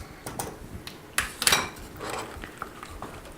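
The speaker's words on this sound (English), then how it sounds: "So now let's add in the cooked pasta and stir it all together with the sauce." Cooked pasta stirred into a cheese sauce in a pot for bacon mac and cheese, giving soft wet scrapes and a few sharper clinks of a utensil against the pot over a few seconds, close and moderately quiet.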